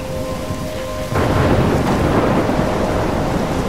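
Steady rain on a stormy night in Life is Strange suddenly swells as a heavy thunder rumble breaks in, then roars on loudly with no voices.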